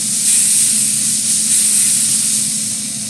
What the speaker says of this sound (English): So I'm going to put some water on them from the smoker spray bottle.